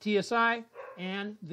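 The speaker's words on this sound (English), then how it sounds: "Excuse the dogs in the background." Dogs bark indoors in the background, several drawn-out, tonal barks in quick succession, fairly loud, heard alongside a person talking.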